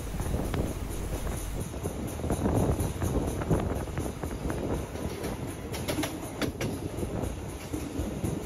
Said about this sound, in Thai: ตอนนี้ขบวนรถก็ออกจากสถานีลาดบัวขาวแล้วนะครับ